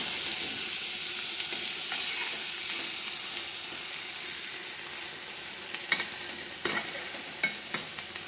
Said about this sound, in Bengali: তাকে এখানে বসিয়েছি পেঁয়াজ কলি, আলু ভাজা